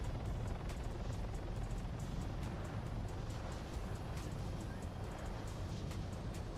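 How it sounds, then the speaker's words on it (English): A helicopter in the Arma video game flies at speed after losing its tail rotor, heading into an autorotation: a dense, steady rotor thrum and engine roar fills the whole stretch with no talking. "I will fly with a lost tail rotor at speed,"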